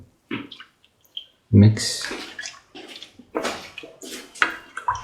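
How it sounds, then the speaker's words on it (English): Coconut milk, about 750 ml, poured into a cooking pan, a close splashing, gurgling liquid sound in uneven bursts with clinks of the container. "Now pour in the coconut milk around 750 ml."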